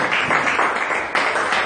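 A church congregation claps together in acclaim of God, a dense, continuous burst of applause filling a room, fairly loud and steady with no voices over it.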